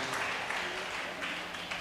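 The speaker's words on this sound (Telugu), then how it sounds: "గట్టిగా చప్పట్లు కూడా గట్టిగా దేవుని మహిమ పొరుద్దాం" A church congregation claps loudly in praise during a healing prayer service, a dense steady wash of many hands across the whole stretch with a speaking voice faintly underneath.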